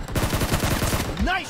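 A quick, close burst of rapid gunshots from the video game PUBG sounds as a tight rhythmic string of cracks. A short rising tone or voice follows at the end.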